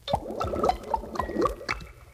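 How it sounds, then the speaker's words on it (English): Cartoonish underwater air bubbles serve as a page-turn cue in a Bozo Under the Sea storybook recording, a short burst of bright bubbly pops and gurgles close and alone. "Remember, the air bubbles mean to turn the page."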